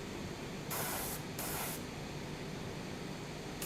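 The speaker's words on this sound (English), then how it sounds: "I just hope I'm not spraying onto something else" Two short hissing bursts of a Gundam Marker airbrush spraying paint over a faint steady background hiss, close and fairly quiet.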